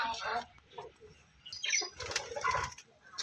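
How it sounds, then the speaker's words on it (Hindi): Caged Australian birds coo softly and flap their wings in short bursts close by, while people talk throughout in the foreground. "ये हमारे ऑस्ट्रेलियन चिड़िया हैं"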